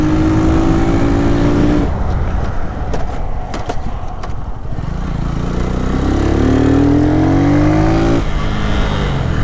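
A Lifan KP motorcycle rides along loudly, its engine climbing through revs, dropping briefly as it shifts or eases off, then pulling hard again in rising whining sweeps, close up and continuous.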